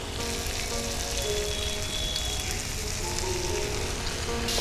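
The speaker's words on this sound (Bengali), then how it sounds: "পনির আর পেঁয়াজটা একটু ভাজা ভাজা করে দিচ্ছি।" Paneer and onion fry on a hot tawa, giving a dense, even sizzle like steady rain that stays constant and fairly loud, with no talking.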